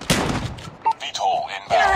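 Gunfire in a multiplayer shooter video game rings out in several sharp bursts, with the game's announcer voice speaking between the shots.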